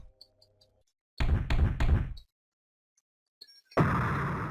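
Thudding knocks on a door in the video game Ib, two heavy rapping bursts in quick succession followed by a louder rush of noise, between near-silent gaps.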